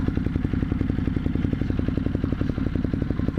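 A motorcycle engine runs close by with a fast, even thumping pulse as the rider sets off from home onto country roads, steady and moderately loud.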